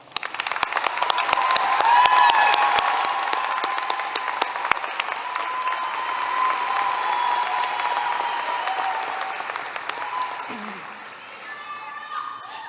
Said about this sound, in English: let's all of us take a moment to acknowledge your success with a round of applause